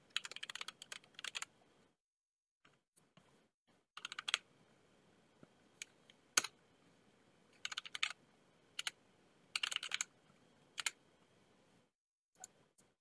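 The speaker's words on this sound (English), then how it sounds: "you can immediately start typing from anywhere to begin searching." Close computer keyboard typing during a GNOME desktop search demonstration: quick bursts of clicky keystrokes separated by short pauses, with no voices.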